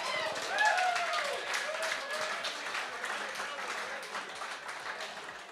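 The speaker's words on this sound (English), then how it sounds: "big round of applause for all the boys and gals making their way over from WA for the evening" A crowd at a live evening event claps in a sustained round of applause, with a few voices shouting early on before the clapping slowly fades.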